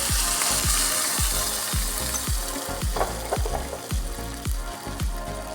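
Cashews added to kesari made with rava, frying in a pan: a steady, loud sizzle broken by regular scraping stir strokes about twice a second, with no talking.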